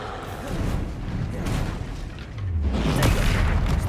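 Spell impacts and magical blasts from Expelliarmus being cast in Hogwarts Legacy, a dense rumbling wash of booms and crackling bursts that swells in the second half.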